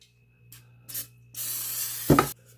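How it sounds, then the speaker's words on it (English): A few short sprays from a can of cooking spray onto parchment paper, ending in one longer, steady hiss of spray. "what I'm going to do to help my parchment paper stick a little better is spray it"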